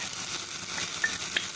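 Cloves, black pepper and cardamom crackle in a hot oil tempering for Rajasthani panchmel dal, a steady close sizzle with a few small pops and no talk.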